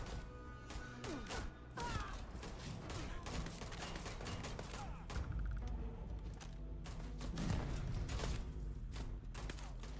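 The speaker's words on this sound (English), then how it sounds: "Even Roosevelt's shooting at me." Gunfire in the Starfield video game during a fight with President Roosevelt, with a dense, continuous stretch of shots, impacts and crashes layered over a busy game soundtrack for the whole stretch.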